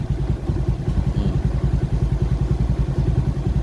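Suzuki Smash 115 carbureted motorcycle engine idling nearby, a steady rapid low putter with even pulsing beats throughout.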